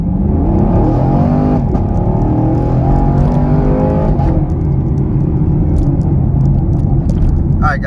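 A 2021 Chevrolet Camaro with the LT1 V8 on stock tires launches hard from a standstill to 60 mph with traction control on, its loud engine note rising steadily and continuously close up with no talking.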